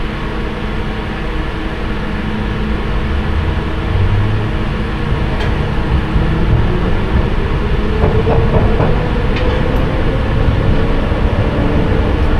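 A London Underground Piccadilly Line train running through the tunnels, heard from the rear cab: a steady loud rumble of wheels and motors with faint rail clicks and a rising whine near the end.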